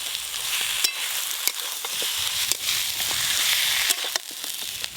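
A banana flower curry with fish head bubbles in a pan after water goes in, giving a soft steady sizzle with scattered light clicks and scrapes of stirring close by.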